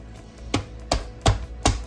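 Raw chicken bones being chopped open for stock, with four sharp, loud cleaver strikes on a cutting board about every 0.4 seconds, no talk.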